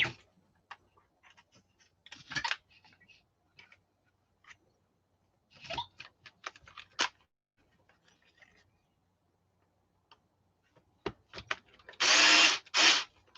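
A power drill undoing screws, whirring in several short bursts separated by quiet gaps, with a louder, sustained close whine near the end and a few clicks and clatters between.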